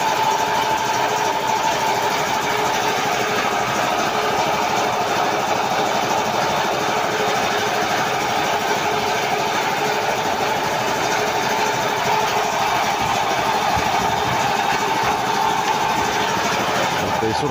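An air compressor engine runs steadily near a lathe machine being serviced for an oil change, a continuous loud mechanical drone with dense vibration that holds unchanged throughout.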